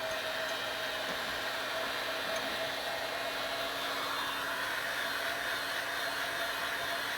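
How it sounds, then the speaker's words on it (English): Compressed air hose blowing in a workshop while making a two-piece leather holster, a steady faint hiss running alone and unbroken throughout. "Air hose at the ready."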